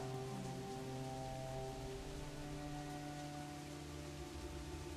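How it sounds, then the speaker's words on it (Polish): Heavy rain pouring on a Caribbean island in the video game Assassin's Creed IV Black Flag, a steady dense hiss with a low background hum, no voices. "Jakąś wyspę Karaibów, ale leje tym deszczem"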